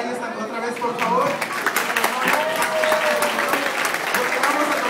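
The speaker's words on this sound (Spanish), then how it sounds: "Demos un fuerte aplauso a ellos otra vez" Wedding guests applaud in a reception hall, with steady, dense clapping from a sizable crowd and chatter mixed in throughout.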